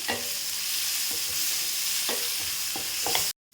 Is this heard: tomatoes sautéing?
yes